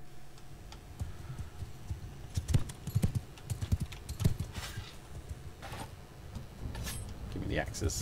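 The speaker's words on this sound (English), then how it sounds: "they're on horses, man" Horses gallop in the Mount and Blade 2 Bannerlord video game, with rapid hoofbeat clip-clops in an uneven, rising rhythm against a quiet game background.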